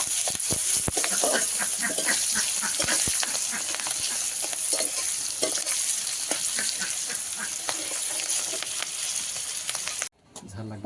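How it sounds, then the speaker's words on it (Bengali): Chopped onion, crushed garlic and black cumin sizzle steadily in hot oil in a home kitchen, a loud continuous frying hiss with occasional stirring clinks, cutting off abruptly near the end. "পেঁয়াজ কুচি, রসুন থেতো আর কালো জিরা দিয়ে দিয়েছিলাম তেলে"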